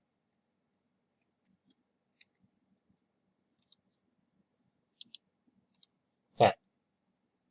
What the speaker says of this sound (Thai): ให้เราคลิกขวาเลือก new